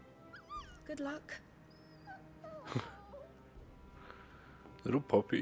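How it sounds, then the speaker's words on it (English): A small puppy whimpers and whines in Final Fantasy 16, a few short high cries spread over the moment amid quiet game ambience, with louder rustling bursts near the end. "Little puppy."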